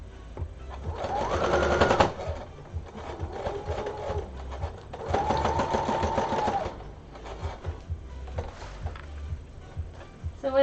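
A sewing machine stitches faux fur nearby in several whirring runs of a few seconds each, separated by brief pauses and handling noises, with its steady motor hum rising and falling in pitch.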